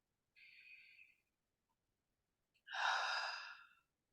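Two slow, soft breaths during a guided meditation, the first a short exhale and the second a longer, fuller breath after a pause, close and quiet with no talking.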